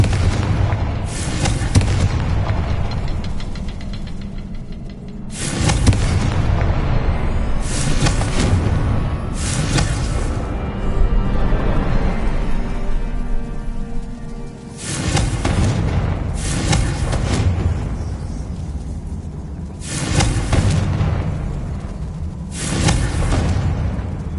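Spell blasts from Bombarda and Confringo boom repeatedly in Hogwarts Legacy. Loud, heavy explosions land every few seconds over a continuous rumbling backdrop of game sound.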